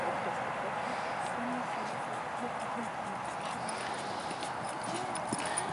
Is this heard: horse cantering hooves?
yes